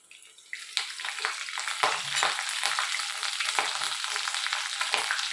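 Curry leaves dropped into hot oil with fried eggplant burst into a loud, crackling sizzle that jumps up after a brief quiet start and holds steady with spitting pops and stirring scrapes.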